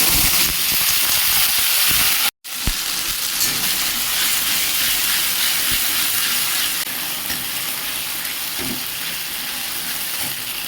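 Ground spice paste hits hot oil and sizzles loudly and continuously, a dense hissing spatter close up that breaks off for a moment and then carries on unchanged, with no talk.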